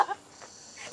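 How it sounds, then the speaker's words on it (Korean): Cicadas sing outdoors at a campsite on a hot summer day, a steady high-pitched drone running throughout, with a brief voice at the start. "지금 매미 소리 들리세요?"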